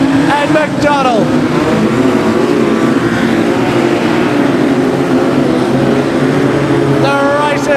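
Modified sedan race cars roar around Kingaroy Speedway in a Golden Helmet Series A-Main. A dense, constant wall of engine noise fills the track, with cars sweeping past at the start and end while a commentator talks over it.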